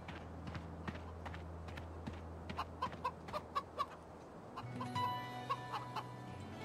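Chickens cluck in short, soft bursts that grow more frequent over a low steady hum, with a faint higher tone near the end.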